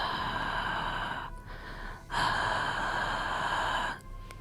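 A voice imitates heavy breathing heard from behind a door, two long, loud, harsh breaths separated by brief pauses, close and alone without any spoken words.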